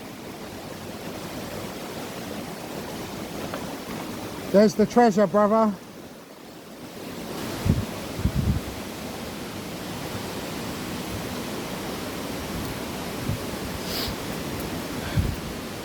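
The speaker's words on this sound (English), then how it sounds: "Here's the waterfall, first part." A waterfall at Canaries in Saint Lucia sends up a steady, close broadband rush of falling water that runs through the whole stretch, with a voice cutting in briefly near the start.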